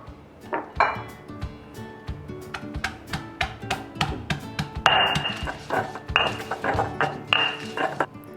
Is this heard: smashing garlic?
yes